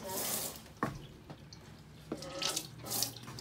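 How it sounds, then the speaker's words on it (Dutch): Water is hand-pumped with a lever into the galley sink of a Beneteau First 25.7 sailboat, producing close splashing and trickling in spurts, with sharp clunks from the pump between bursts. "Hier pomp je water in met deze hendel."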